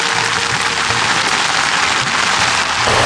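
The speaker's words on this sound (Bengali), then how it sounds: "শুটিং ব্রিজ ধরে যাচ্ছি আর শুরু হয়ে গেল মুষলধারে বৃষ্টি।" Heavy downpour on Maheshkhali island, Bangladesh, a dense, loud, unbroken hiss of rain pelting surfaces nearby, steady throughout with no voices.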